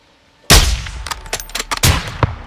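A loud, close gunshot bursts out in the Call of Duty Modern Warfare 2 campaign, followed by a flurry of sharper, smaller shots and metallic impacts that ring out briefly before a second heavy blast near the end.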